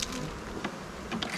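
Bees buzz in a steady, close hum around a beekeeper outdoors at the hive, with a few louder passes drifting near and away.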